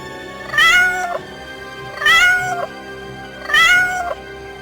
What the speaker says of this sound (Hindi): एक काली बिल्ली अचानक मंदिर के दरवाजे पर आकर बैठ जाती है।